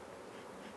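Bees that have turned irritated fly around at a farm, filling the moment with a steady, faint buzzing drone that carries no talking.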